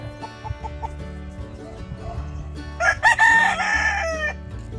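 A rooster crows nearby midway through, loud and drawn out, over low background hum and scattered clucking from chickens inside a netted enclosure.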